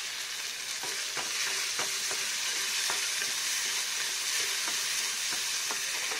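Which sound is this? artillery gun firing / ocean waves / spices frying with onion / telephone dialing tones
spices frying with onion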